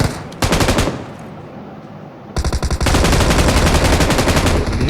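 M249 light machine gun in PUBG Mobile firing long sustained bursts, loud and close, with a short burst, a brief pause, then continuous rapid automatic fire.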